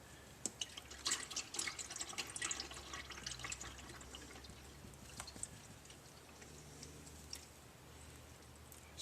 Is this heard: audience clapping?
no